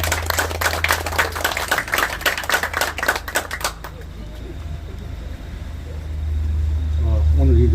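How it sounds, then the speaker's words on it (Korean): Applause at a research institute opening and plaque unveiling ceremony welcomes a congratulatory speaker, with quick dense clapping for about four seconds that then stops abruptly, leaving low room hum and murmur. "큰 박수로 맞이해 주시기 바랍니다"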